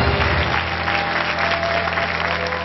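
A studio audience claps steadily at a live magic show, a loud even burst of applause sustained for a couple of seconds.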